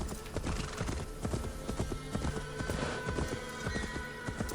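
A horse gallops at a steady rhythmic clip-clop with regular hoof strikes in Assassin's Creed Valhalla, with a brief whinny and game ambience underneath, fairly close and continuous.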